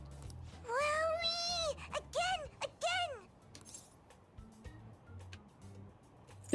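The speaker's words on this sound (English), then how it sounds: "It meows when you press on its head." A stuffed toy cat in Persona 5 Royal gives a few drawn-out meows, three rising-and-falling cries in close succession over soft game background music.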